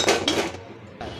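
Dishes and utensils clinking close by during washing-up in a home kitchen, a few sharp metallic and ceramic knocks in a brief burst with no talk.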